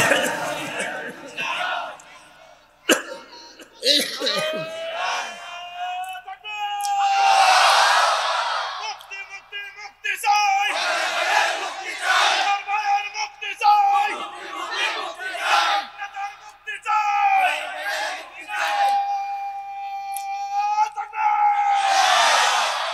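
A large crowd at an outdoor Islamic religious gathering shouts back in loud unison, answering a takbir call in repeated surging bursts of massed voices and cheers, with brief pauses between waves of yelling.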